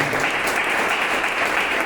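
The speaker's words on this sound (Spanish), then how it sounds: "Vamos a dar un fuerte aplauso al Señor." Loud, steady applause fills a church during a Spanish-language sermon service, a dense continuous wash of clapping giving praise to the Lord.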